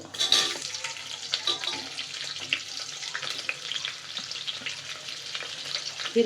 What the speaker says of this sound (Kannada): ಹಾಕಿ ಬ್ರೌನ್ ಬರೋವರೆಗೂ ಈರುಳ್ಳಿನ ಚೆನ್ನಾಗಿ ಫ್ರೈ ಮಾಡ್ಕೋಬೇಕು